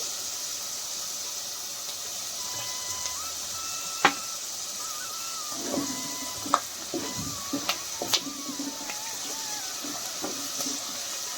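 Peanuts fry in hot oil for tamarind rice, a soft continuous sizzle broken by scattered sharp pops and ticks from the pan.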